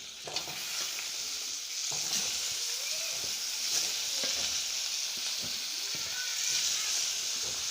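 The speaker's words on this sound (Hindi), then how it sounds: "जो आलू थे उबले हुए वो डालने हैं।" Boiled potatoes go into a hot pan of curry, giving a steady sizzle and frying hiss with scraping stirs, close and continuous, while someone speaks over it.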